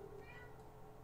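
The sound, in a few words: cat meowing at the door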